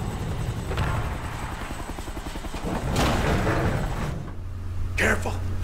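A helicopter in the video game Kane & Lynch 2: Dog Days thrums with a steady rotor beat beneath gunfire thuds and someone shouting. The rotor noise swells and fades, and a burst of noise comes near the end.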